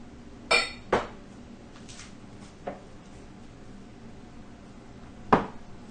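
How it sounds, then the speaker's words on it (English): Utensil stirring a yogurt culture mixture into milk in a crockpot, giving a few sharp clinks and knocks against the pot, spaced irregularly over quiet background. "I mix it in to the remainder of my milk"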